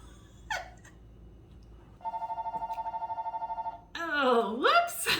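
A telephone bell rings in a kitchen in one long pulsing burst of rapid, evenly repeated tones, followed by a voice speaking over background noise.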